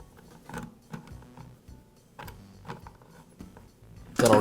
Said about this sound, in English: I'll loosen the nuts and also loosen the chain tension.